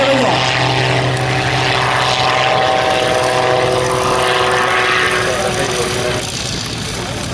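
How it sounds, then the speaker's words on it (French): A propeller-driven aerobatic plane climbs away after takeoff from a small aerodrome, its engine droning loud and steady throughout with a strong low hum, then easing slightly near the end. "Bunny, qui vient de décoller aux commandes de son avion de voltige"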